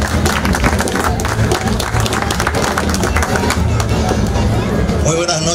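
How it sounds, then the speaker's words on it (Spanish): An audience at the Argentine Superliga 2023 closing ceremony for champions Boca gives loud, sustained applause, a dense wash of many hands clapping with crowd voices mixed throughout. "a quien pido fuertes aplausos"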